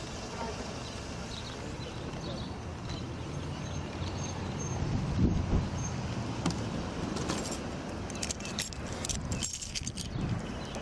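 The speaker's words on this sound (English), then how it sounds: "Where's the keys to this car?" Car keys jangling in a patrol-stop setting, a soft scattered metallic rattle under steady background noise and faint voices.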